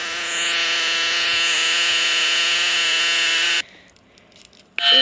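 A video game plays a loud, steady electronic buzzing tone for about three and a half seconds when the orange character eats the player. It cuts off sharply, falls quiet, then a new burst starts.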